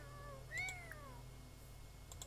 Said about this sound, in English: Oh, look, Luna, here's a kitty cat.